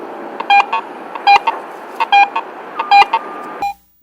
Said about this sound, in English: Another feature called tone roll audio allows you to hear changes in the target's conductivity as the coil passes over.